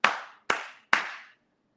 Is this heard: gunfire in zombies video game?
no